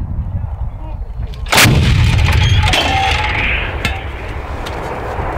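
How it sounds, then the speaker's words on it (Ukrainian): A single loud artillery cannon blast booms out, followed by a long rolling echo and reverberation that slowly fades. "Коли працює артилерія, звуки чути у всіх навколишніх селах"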